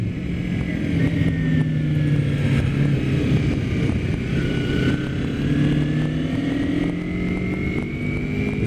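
A steady 2009 250R motorcycle engine drones throughout while riding, its pitch rising and falling slightly, with a constant whoosh of wind over it.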